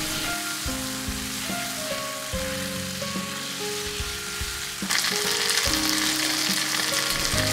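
Chicken breast steak fries in a pan with a dense, rain-like sizzle and crackle, steady throughout and growing brighter and louder near the end, with faint tonal sounds underneath.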